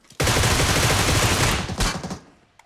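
Burst of rapid automatic gunfire in a video game, one loud continuous volley lasting over a second and a half, followed by a shorter trailing burst and a quick fade.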